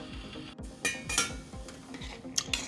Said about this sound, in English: add the okra and you stir